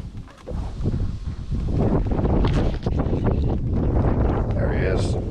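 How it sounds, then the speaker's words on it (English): Strong gusting wind buffets the microphone in a loud, continuous roar while redfishing, with a voice speaking over it. "It's so windy."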